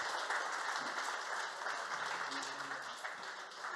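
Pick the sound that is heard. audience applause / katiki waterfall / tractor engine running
audience applause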